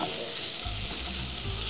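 Garlic and ginger sizzle steadily in a hot pan, a dense crackling hiss that holds for a couple of seconds as they fry, with a low stirring rumble joining partway through.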